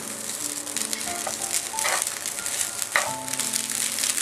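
Vegetable fried rice with crushed black pepper being stirred in a hot pan: a steady, close sizzling hiss throughout, broken by a couple of brief spatula scrapes, with soft tonal background music underneath.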